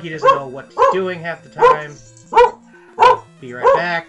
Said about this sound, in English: Please excuse the barking dog.